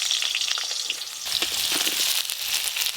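Potatoes and ridge gourd fry in hot oil, giving a steady, close crackling sizzle with small pops throughout and no voices.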